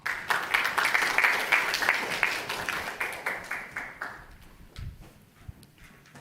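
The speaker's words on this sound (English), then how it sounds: "Ladies and gentlemen, loud applause to Wai Fong." A small audience at an architecture awards finale gives a short round of applause, moderately loud clapping that thins out after about four seconds, leaving a few scattered claps and faint room noise.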